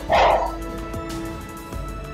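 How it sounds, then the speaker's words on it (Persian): Dogs roaming a city street, with one loud close bark at the start, then fainter yips and whimpers over a steady background hum. "چقدر سگ تو خیابون ولوه"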